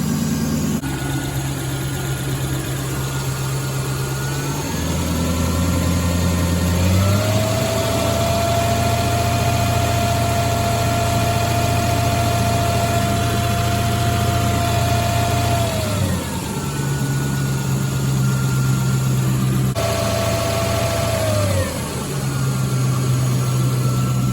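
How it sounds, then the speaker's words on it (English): A Lexus SC400/LS400 1UZ engine that has been overheating idles steadily and loud during a coolant burp, its pitch rising and falling as it is revved a few times, with no talking. "I'm gonna start the car."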